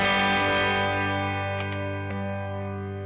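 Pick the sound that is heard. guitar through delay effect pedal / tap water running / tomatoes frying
guitar through delay effect pedal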